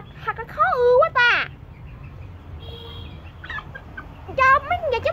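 A black hen and a rooster feeding give loud, wavering cackles and clucks in two bursts at the start and end, close by, with a quieter gap between.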